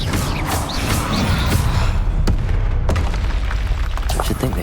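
Spell explosions from Bombarda and Confringo in the Hogwarts Legacy video game, loud booming blasts layered over a dense, continuous rumble, with a few sharp cracks punctuating the din.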